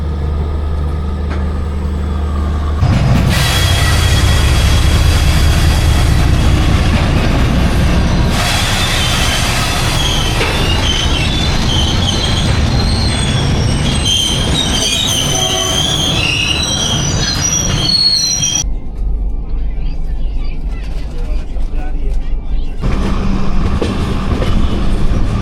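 A passenger train runs along railway tracks with a loud, steady rumble, squealing wheels and clattering over rail joints that continue through the whole stretch, with no voices.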